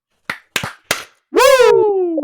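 Three quick slaps of hands, claps at a relaxed pace, followed at once by a loud, drawn-out falling vocal whoop imitating the Ric Flair cry.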